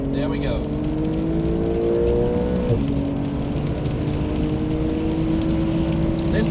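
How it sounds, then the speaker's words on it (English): A Porsche Carrera 992 engine pulls hard under acceleration on a wet Nürburgring, a steady droning tone that rises in pitch, drops for a gear change, then climbs again, loud and continuous with tyre and road noise underneath. "Go very much on the gas already."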